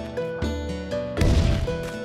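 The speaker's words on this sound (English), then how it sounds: "that was like an explosion back there" An explosion in the video game Delver lands as a sudden broad crash over the game's sustained droning music, a short burst of rumbling noise lasting about a second.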